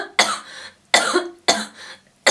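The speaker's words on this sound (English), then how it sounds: "You know when you needed to cough in an exam" Three loud, sharp coughs in a row, each a harsh burst followed by a short rasping tail, evenly spaced and close up, with no talking.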